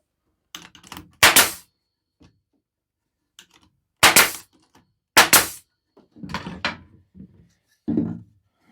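A pneumatic staple gun drives staples into wood in a woodworking shop, firing several sharp, close snaps spaced irregularly, some in quick pairs, with short quiet gaps between.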